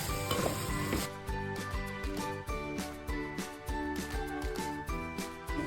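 Masala sizzles and fries in a hot pan for prawn biryani, a steady crackling hiss with repeated scraping stirs throughout, close and fairly loud with no talk.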